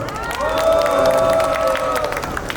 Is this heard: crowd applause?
yes